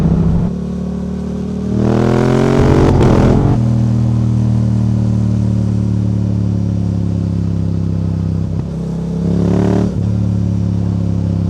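A Yamaha R7 motorcycle engine runs close and loud with a steady throb, then sharply revs in two bursts, climbing and falling back to idle, with crackling exhaust pops around the revs.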